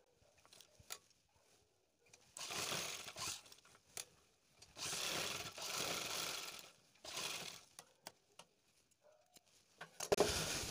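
A sewing machine stitches a strap onto a bra in bursts of rapid mechanical whirring, three main runs separated by quiet pauses and scattered clicks, fairly faint and close.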